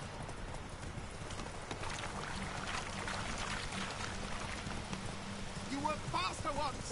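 Hoofbeats of Roach, a horse galloping in The Witcher 3, as a steady clip-clop under loud, continuous background sound, with brief speech near the end.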